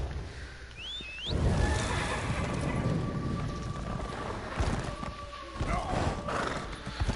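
A horse in the Elder Scrolls Online video game neighs and gallops, its rapid hoofbeats running loud and close for several seconds alongside a brief whinny early on.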